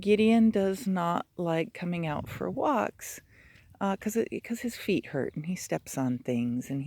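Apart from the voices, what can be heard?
No everyday noise stands out behind the speech.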